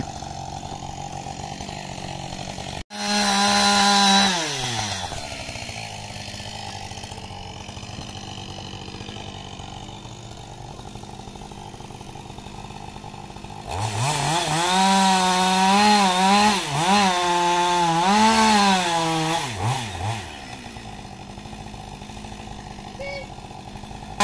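A chainsaw cuts through wood while a hedge is being trimmed: a loud burst of engine snarl early on, then a longer stretch of revving and bogging as the blade bites, with voices talking quietly in between.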